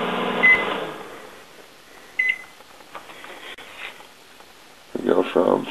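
A microwave oven hums with a few short electronic beeps, one near the start and one around two seconds in, followed by a burst of louder clatter at the end; a person speaks over it.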